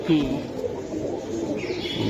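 Pigeons for sale at a market coo and call close by, with soft throaty notes over a busy background murmur that may include voices.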